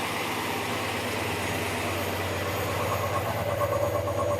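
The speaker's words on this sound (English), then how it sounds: "Exhaust is pretty quiet" Steady low idle of an Oldsmobile 442 with an LS engine swap, its exhaust quiet and even, a continuous rumble with slight rhythmic pulsing and no talk.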